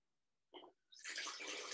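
Water pours into a sensory bottle holding sunken coins and floating balls, with a short splash and then a steady, close rush of liquid filling the container.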